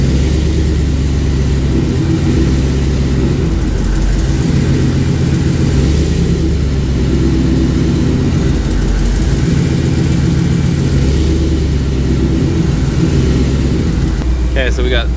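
A Dodge RAM 1500 pickup with a HEMI engine drives slowly, its deep engine rumbling loud and steady throughout, with people talking over it.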